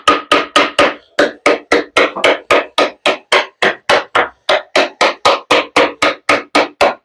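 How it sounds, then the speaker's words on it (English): Rapid, steady hammer blows driving a wooden breadboard end into place, around two dozen sharp knocks in quick even rhythm, loud and close. "You may need to do some hammering."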